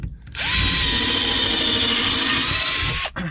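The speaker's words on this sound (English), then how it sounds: "Let's drill some more holes, more pilot holes" A power drill whirs steadily at high speed for about three seconds drilling a pilot hole for a sawhorse, close up, then winds down and stops.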